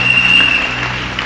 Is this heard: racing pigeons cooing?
no